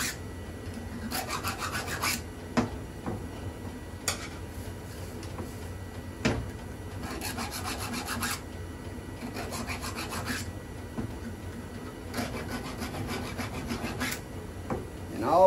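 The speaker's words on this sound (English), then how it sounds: "I just take my file and just give it a quick little rub there to make sure it ain't got any" Hand file rubbed across a freshly sharpened chainsaw chain to knock off burrs, heard as repeated short rasping strokes in spaced bursts with scattered metallic clicks and knocks between, close and fairly quiet.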